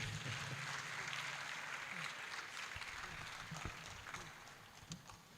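Audience applause at a World NTDs Day event, a steady broadband wash of clapping that continues for the whole stretch at moderate loudness, with a faint voice coming through the noise.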